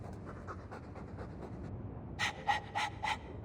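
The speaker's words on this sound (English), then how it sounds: "All that noisy dog breath, day in, day out." A dog in the video game Dragon Age 2 pants rapidly, first in softer quick breaths, then four louder, sharper huffs near the end.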